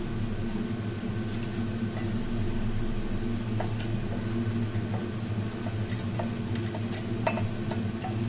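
Brinjal and spices fry in oil in a pan on a stove, giving a steady, close sizzle with faint clicks and a constant background hum throughout.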